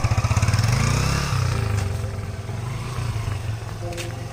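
A motorcycle engine idles and runs close by with a rapid pulsing thrum that eases off after a second, continuing steadily with faint voices nearby.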